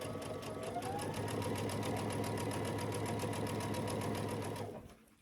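A sewing machine runs at a fast, even pace while stitching a row of a T-shirt quilt, its rapid mechanical rattle loud and close before it slows and stops near the end.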